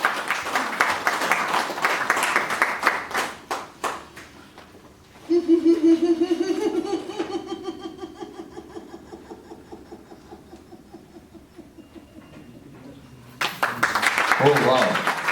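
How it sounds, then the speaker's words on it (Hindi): Group applause bursts out at a corporate laughter yoga session in an office setting, loud close clapping at the start and again at the end, with a long stretch of sustained voiced laughter or chanting in between. "पूजा के लिए जोरदार तालियां प्लीज।"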